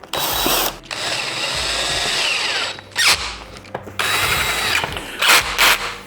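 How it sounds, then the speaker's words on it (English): A power tool whirs in bursts while tightening bolts during assembly of a gaming chair, with long sustained runs broken by short pauses and quick ratcheting blips near the end, close and loud. "if you're using a power tool, make sure that you adjust the torque so you don't over tighten these, break a bolt"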